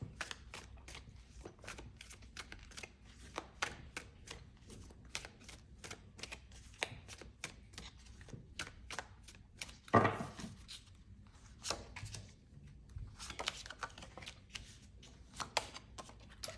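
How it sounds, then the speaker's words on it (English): Tarot cards shuffled and drawn, quiet rapid riffling flicks and card snaps close by, with one fuller burst of shuffling midway and no talking. "Let's get 3 cards for you guys."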